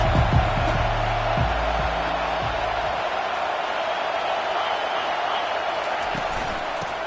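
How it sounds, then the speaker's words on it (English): Stadium crowd at a UNC college football game, a loud sustained roar of many voices filling the background, with thumps and banging early on. "This crowd trying to make life miserable for this offense."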